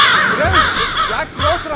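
A whole flock of crows caws loudly and close by, with overlapping harsh calls that rise and fall in bursts, filling the air as the birds settle in.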